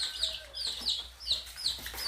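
Native Korean chickens and silkie hens cluck and squabble over a small frog, with a rapid series of sharp, close clucks repeating about every half second over a faint low hum.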